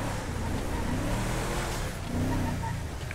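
A car driving in the video game GTA 5 with mods, its engine humming and revving steadily, fairly close and continuous, with a little talk underneath.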